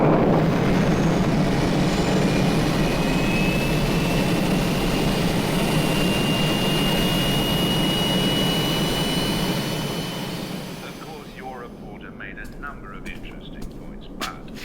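Spacecraft engines fire with a loud, steady roaring rush in an audio drama, holding strong for about ten seconds before easing down to a quieter hum.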